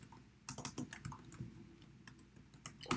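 Computer keyboard typing in quick irregular bursts of close, crisp key clicks, with short pauses between flurries and a final sharp clack.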